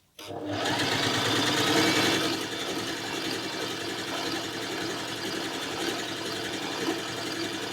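A Family 25 PRO sewing machine stitches with plain polyester thread, starting abruptly and then running as a steady, close, rapid mechanical whir throughout.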